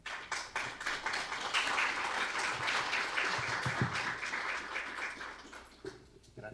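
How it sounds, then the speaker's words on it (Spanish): A conference audience applauds a speaker being introduced, with sustained, fairly faint clapping that fades out at the end. "Un aplauso para él."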